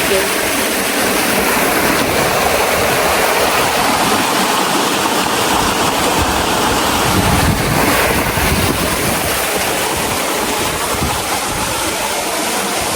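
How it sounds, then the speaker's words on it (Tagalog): Loud, continuous rushing floodwater roars steadily and close around a hut, a dense broadband wash that barely changes over its length. "Grabe po kalakas ang pasok ng tubig."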